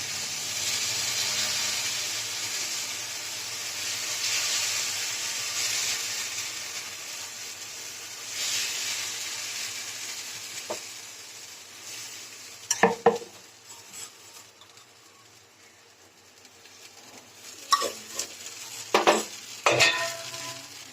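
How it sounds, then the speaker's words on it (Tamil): Wheat dosa batter goes onto a hot pan and gives a close, hissing sizzle that slowly fades. Several sharp metallic clanks of a pan or lid follow later. "தோசை ஊற்றிக்கலாம்."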